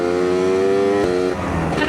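Suzuki Satria Hiu two-stroke motorcycle engine, fully modified, revving and pulling hard under acceleration, a loud, steady buzzing drone that shifts pitch partway through.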